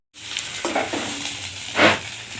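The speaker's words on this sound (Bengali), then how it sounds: "এই ফাঁকে একটু পেঁয়াজ ভাজা করে নিয়ে নিচ্ছে" Onions frying in a pan in a home kitchen, a steady sizzle with a few stirring scrapes and a brief louder burst of crackle near the end.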